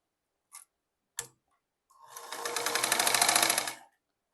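A sewing machine stitching a palazzo: two short clicks, then a steady whirring run of rapid stitching lasting about two seconds, close and clear, with no talking.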